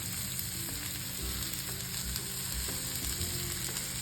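Spinach dhapate flatbread cooking on a dry pan without added oil gives a soft, steady sizzle with faint crackles, quiet and close, with no talking.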